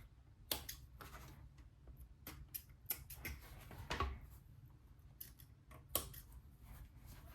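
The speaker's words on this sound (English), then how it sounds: "get these threads cut off, snipped off here" Scissors snip off leather stitching threads on a sport shooting bag, giving a series of quiet, crisp close cuts at an irregular pace with no talking.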